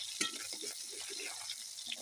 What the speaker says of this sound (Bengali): এই মাছগুলো দিয়ে দিলাম, এই ভেজে নিচ্ছি।